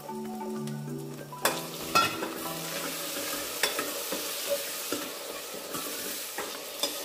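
Onion, ginger garlic paste and tomato frying and being stirred in a pan for rajma masala, with steady sizzling and repeated scraping stirs, close and alone.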